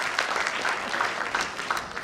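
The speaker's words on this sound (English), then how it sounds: "So with big clap for the ladies also who are involved in this." A live audience at an annual function claps for the women involved, a dense and steady burst of applause filling the room for a couple of seconds with no voices over it.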